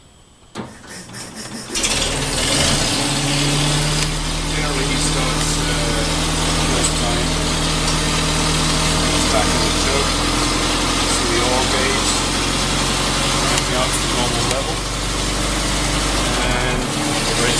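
A 1924 Bullnose Morris Cowley engine cranks briefly, catches and settles into a loud, steady idle with a rhythmic mechanical chatter, close by; a voice speaks faintly at times.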